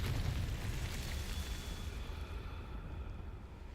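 A Confringo spell explosion in Hogwarts Legacy, a broad roaring blast that starts loud and slowly fades into a lingering rumble over a few seconds.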